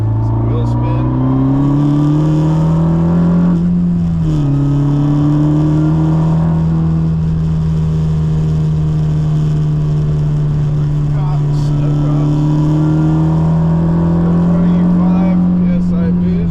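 A 10th-generation Honda Civic Si with an upgraded intercooler accelerates hard with wheel spin, its engine droning loud and steady from inside the car with a brief dip as revs change.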